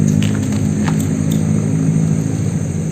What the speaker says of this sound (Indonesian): audionya sedikit terganggu dengan suara truk soalnya kita di pinggir jalan